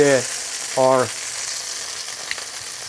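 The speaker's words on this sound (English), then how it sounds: "I'm going to take this out and start sauteing our onion." Onion sautés in a pan with a steady, close sizzle, briefly overlaid by two short harmonic voice-like tones near the start, then the frying continues alone with a faint clink.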